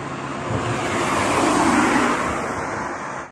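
A passing car in traffic makes a broad roadway whoosh that swells to a peak midway, then fades as the vehicle moves off.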